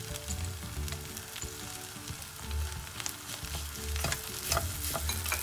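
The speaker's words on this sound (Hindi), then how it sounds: "अब ये सबको आप ऐसे अच्छे से घचर घचर मिला लें" Coriander and peanut stuffing is stirred and sizzling in a hot pan, a spoon scraping and clinking through the mixture with intermittent taps over a steady frying crackle, close up with no talking.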